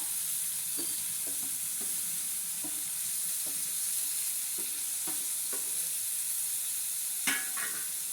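Green chili and ginger-garlic paste fry with tomato in a pan, a steady close sizzle and hiss running throughout, broken by a series of light scraping stirs and one sharper knock near the end; no one speaks.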